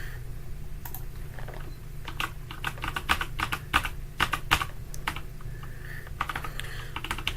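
Keys clatter on a computer keyboard in irregular bursts while checkout details are entered, close and moderately loud over a steady low hum.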